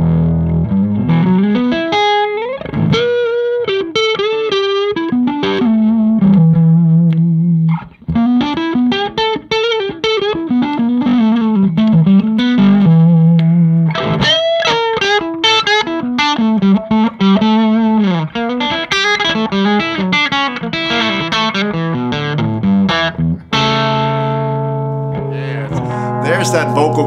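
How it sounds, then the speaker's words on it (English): Electric guitar played through a 1980s Dumble Overdrive Special amp on its overdrive channel, a saturated singing lead with sustained bends and chordal phrases, loud and continuous without talk. "I'm going to go ahead and flick to the overdrive channel now so you can hear some of that."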